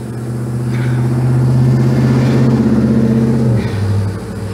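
A car passes on a quiet road, its engine swelling as it nears, holding a steady low hum for a few seconds, then fading as it drives away, with no talking.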